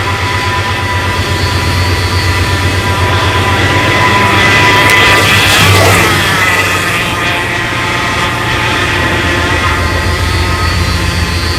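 A loud, steady engine hum from a rebuilt rusty 360 engine idling at about 800 RPM, with a low drone and constant tonal whine, holding even throughout without revving.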